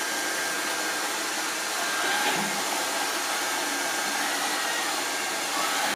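A Lefant F1 robot vacuum cleaner running in quiet suction mode gives a steady, even whirring hum of fan and motor, close and constant throughout before stopping abruptly.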